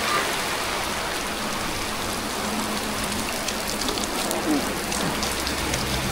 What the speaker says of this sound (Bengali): আজকে সারা দিন বৃষ্টির ভিতরে পড়তেছি